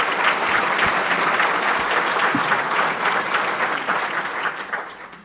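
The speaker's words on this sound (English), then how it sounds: "let's give all of those that I recognize a big round of applause" A city-event audience at the Suffolk State of the City gives a big round of applause, dense, steady clapping that holds strong and then tapers off toward the end.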